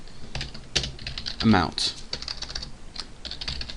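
Steady computer keyboard typing, close and fairly loud, with irregular clicking keystrokes running through the whole stretch while a voice speaks briefly in the middle.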